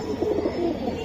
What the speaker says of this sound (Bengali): বেজি কবুতর ভাই, বেজি কবুতর